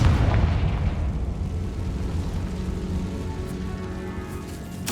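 A Confringo fire-blast spell erupts inside a spider-filled tomb in Hogwarts Legacy on PC, a loud broadband boom that rolls on as a sustained rumbling roar for several seconds before a sharp burst near the end.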